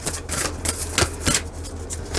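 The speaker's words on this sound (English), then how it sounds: "One more shuffle." Deck of tarot or oracle cards riffled and shuffled by hand during a card reading, with repeated bursts of papery flicking and slapping, fairly close and moderately loud, no talking.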